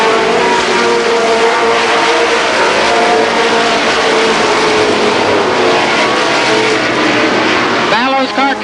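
Race cars roaring around the oval at Columbus Motor Speedway during a 1990 Superstar Shootout, a loud sustained engine drone with shifting tones as cars pass, ending in a rising whine near the close.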